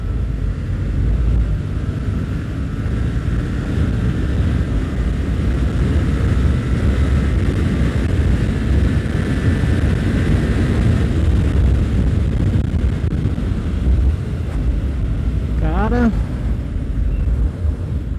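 A Yamaha MT-07 motorcycle ridden in fourth gear, heard as a constant heavy rush of wind over a low engine roar, with a brief rising whine near the end.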